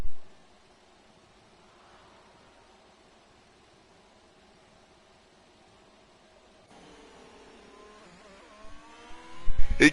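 Ferrari engine in a racing video game, a quiet whirring drone that builds toward the end into louder revving with rising, shifting tones.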